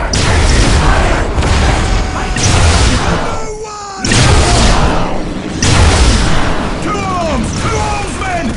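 A Warhammer 40K Dawn of War Soulstorm battle between Dark Eldar and Imperial forces crackles with loud bursts of gunfire and booming blasts in rapid waves, broken by a brief lull and with voices shouting amid the din.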